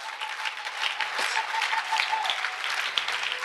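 Steady applause from a church congregation, a continuous wash of clapping throughout with a faint sustained tone from instruments or amplification beneath it.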